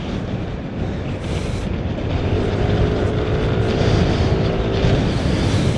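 Yamaha Lexi 155 scooter on the road with its engine revving up, a continuous loud buzzing drone that climbs steadily in the second half over wind and road noise.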